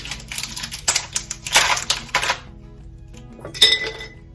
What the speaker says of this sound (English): So I'm gonna put ice in mine.